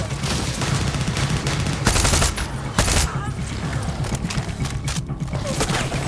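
Video-game gunfire rattles through an abandoned, lawless desert city near the Salton Sea, with dense overlapping shots and bursts, several sharper volleys standing out, continuing steadily throughout.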